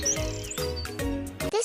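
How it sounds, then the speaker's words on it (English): Small sparrows give a few quick, high chirps over a busy musical backing, all packed into under two seconds. "This is sparrows."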